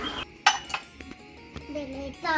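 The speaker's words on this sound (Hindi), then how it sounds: "और ये देखिए बर्तनदानी में बर्तन लगा रही हैं" Metal and steel utensils clink and clatter as they are stacked into a partly broken dish rack in a home kitchen, in sharp separate knocks and chimes with a voice heard faintly.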